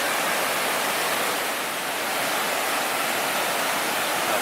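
Steady, full-bodied rush of falling water, a constant broadband roar with no pauses, close and loud throughout.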